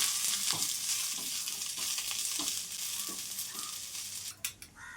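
Moringa leaves and flowers sizzle steadily in a pan with carrot while being stir-fried, a dense continuous frying hiss with a few soft stirring scrapes and a sharper clatter near the end.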